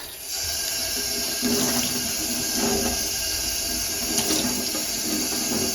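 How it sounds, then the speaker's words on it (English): Steady rush of running tap water, continuous and fairly loud, with a faint splashing texture and no voices. "Now, this is just cold tap water."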